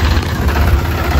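A tractor engine runs at a road construction site, a loud, close, steady low rumble with a rough broadband texture and no speech, lasting just over a second.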